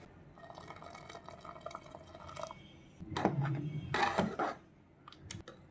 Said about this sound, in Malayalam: നമുക്കൊരല്പം കൂടെ പാൽ ഒഴിച്ചു കൊടുക്കാം